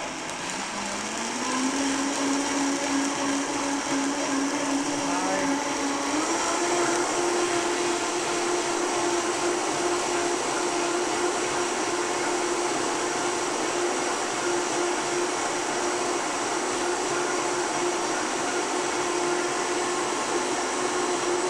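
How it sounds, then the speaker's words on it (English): A blender with its lid on whirs steadily, its motor pitch stepping up twice as the variable speed is ramped higher, then holding a loud, even high-speed drone with no voices. "put the lid on the blender, make sure you're in the low variable setting, all the way down to 1"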